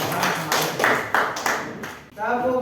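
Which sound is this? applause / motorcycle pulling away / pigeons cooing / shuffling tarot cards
applause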